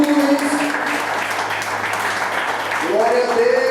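Church congregation applauding for Jesus at a worship service, a dense, loud, steady wash of clapping throughout with tones and voices mixed in.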